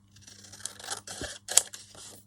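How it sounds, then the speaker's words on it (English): Paper being cut with scissors for shabby-style craft tags, several short close snips and sliding cuts with a sharp click near the end. "So I'm going to cut this down."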